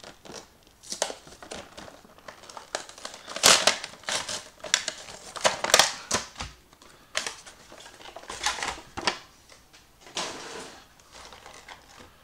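Action figure packaging is pulled open, with a series of crinkling, tearing and snapping bursts of plastic and cardboard coming in uneven clusters at close range.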